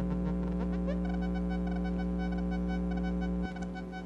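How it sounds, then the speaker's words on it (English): A DIY voltage-controlled amplifier driven by a slow LFO gives a sustained buzzy synth tone with a throbbing tremolo pulse. The tone holds steadily, then drops in level near the end, with no voice over it. "Slow it down enough, it becomes vibrato or tremolo."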